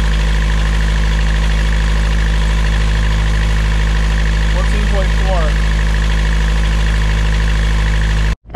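A sailboat's engine idles with a loud, steady, low mechanical hum and a faint chirp partway through, then cuts off abruptly near the end.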